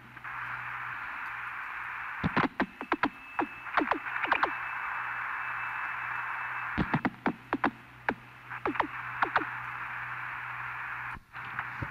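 Telephone line noise during switch-hook flashing between calling and called phones: a steady hiss with a low hum, broken by sharp clicks in irregular clusters, fairly faint and with no voices.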